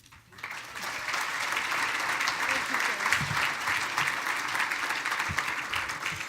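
Steady, sustained applause from a crowd at a regional chamber's annual dinner, rising quickly after a brief quiet start and holding at an even level throughout.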